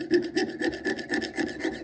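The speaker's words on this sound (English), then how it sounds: "Apply a little beeswax, and then start sawing" A fine saw blade waxed with beeswax cuts metal in quick, even up-and-down strokes, about four per second, soft and close with no talking.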